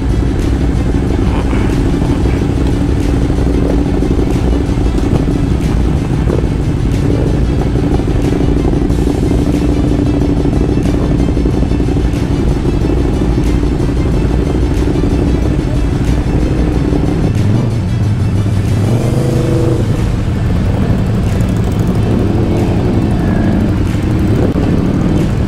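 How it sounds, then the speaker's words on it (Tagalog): Several Ducati motorcycle engines idle and rev at a group ride gathering, a loud, dense, continuous roar that lasts throughout and shifts tone toward the end as individual bikes throttle up nearby. "nag-i-start na yung mga engine ng mga sasali, yung mga first 15 or first group"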